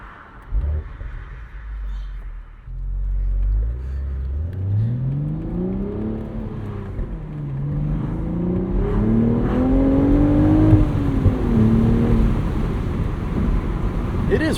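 A 2025 BMW Z4 roadster with a six-speed manual revs its engine, a low rising and falling drone that climbs in pitch through the gears, with a person talking over it.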